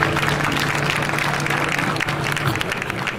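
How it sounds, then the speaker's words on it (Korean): A crowd at a Peace Road pre-event ceremony by the Imjin River applauds a singer: a few seconds of busy clapping with a low steady hum beneath it. "다시 한번 큰 박수 맞아주시면 감사하겠습니다."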